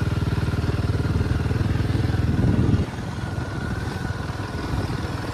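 An off-road motorcycle engine thumps steadily and loudly for almost three seconds, then drops to a quieter rumbling idle on a dangerous desert-like sandy track in Assam.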